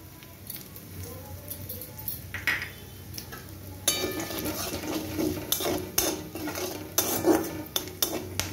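Whole garam masala spices, lightly crushed and frying in oil in a wok with dried chilli and bay leaf, give a close patter of sizzling, broken by sharp clinks and scrapes of a spatula being stirred.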